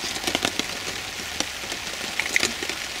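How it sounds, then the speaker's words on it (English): Rain falls steadily on a wet day of bicycle touring in France, a soft hiss with scattered sharp drop ticks and patters close by, no talk. "rain like this all day"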